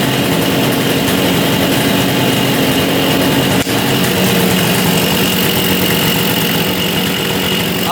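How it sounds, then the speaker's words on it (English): A cheap $200 motorcycle engine idles steadily and loud up close, its even, continuous running broken only by one brief click partway through, with no talk over it. "Idling perfectly."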